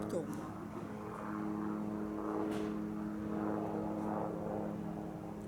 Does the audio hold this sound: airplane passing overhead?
yes